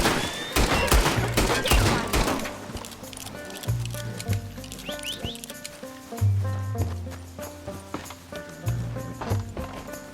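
Gunfire rings out in the video game Red Dead Redemption 2, a rapid burst of sharp shots up front, then scattered cracks mixed with galloping hooves and a background music score.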